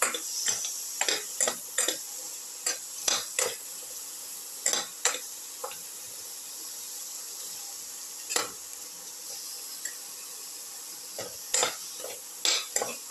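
Snake gourd is stirred with turmeric powder and salt in a pan, giving sharp intermittent clicks and scrapes of a spoon in irregular bursts over a faint background sizzle, with no talk.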